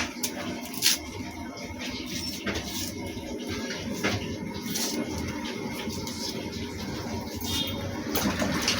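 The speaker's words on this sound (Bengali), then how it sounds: "জলের মধ্যে দিয়ে দিলাম ধুয়ে নেব" Pabda fish being washed, with steady splashing and running water close by, a continuous wet rush with occasional small knocks, no voices.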